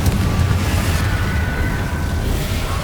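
Explosion from the Confringo fire spell in Hogwarts Legacy, a loud sustained blast with dense rumbling noise filling the whole moment, without talk.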